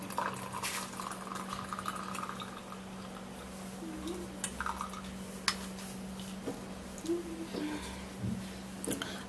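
Boiled moringa tea being poured through a sieve, with soft trickling, dripping and splashing of liquid over a steady low hum, and a voice talking faintly in the background.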